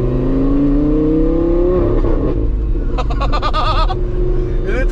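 A Ferrari Testarossa engine with a gutted exhaust line pulls hard under acceleration, its close, loud note climbing steadily in pitch before settling into a rough, busy drone.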